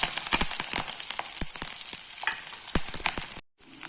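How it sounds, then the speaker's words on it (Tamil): Chana dal, peanuts, dried and green chillies, onion and curry leaves fry in a pan, with a loud, steady crackling sizzle and scattered spatula taps, close and alone, cutting off briefly at the end. "கடலைப்பருப்பு கொஞ்சம் வதங்கின உடனே அது பொரியணும் இல்லையா, அப்போ தான் டேஸ்ட்டாக இருக்கும்."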